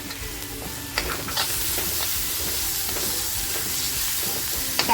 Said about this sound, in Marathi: आता बघा टॅमॅटो जो कापून घेतला आहे तो टॅमॅटो टाकून छान परतवून घ्यायचे आहे